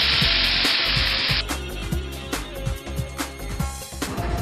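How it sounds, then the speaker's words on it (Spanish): Cream poured into a hot pan already holding white wine, a loud steady sizzle that hisses strongly for over a second and then settles into crackling frying with scattered stirring and clinks. "Y por último voy a agregar la crema"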